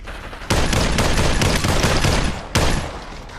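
Gunfire in the VR shooter Population One, loud and close, a dense continuous stretch of rapid shots with a second sharp onset near the end, no talking over it.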